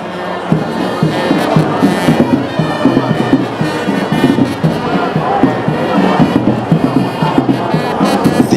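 A mammoth crowd fills a square at a governor's swearing-in ceremony in Anambra State, a dense, continuous roar of many voices with bursts of cheering and shouting throughout.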